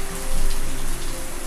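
A steady, close bubbling and sizzling of onion chutney boiling in a pan, a dense continuous crackle with no talking.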